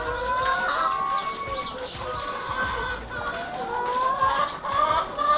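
Chickens cluck and murmur throughout on a deep-litter poultry farm, many birds close by in overlapping, continuous calls with no talking.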